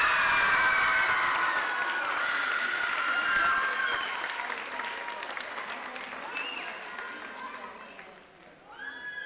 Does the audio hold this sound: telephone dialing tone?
no